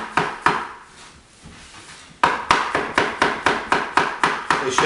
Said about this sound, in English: I chop it very thin.